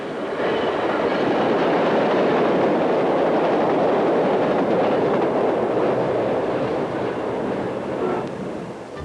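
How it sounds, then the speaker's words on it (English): A Jerome Avenue number 4 elevated subway train rumbles past near 162nd Street and River Avenue in the Bronx, a loud, sustained roar of wheels on track that swells and holds for several seconds before easing slightly, with no talking. "Another Jerome Avenue number 4 train is on the upper"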